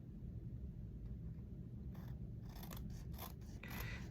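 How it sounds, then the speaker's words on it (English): Scissors snip through a white paper gift tag in a few short, close cuts over a faint low rumble, with no talking. "I'm just gonna trim this here"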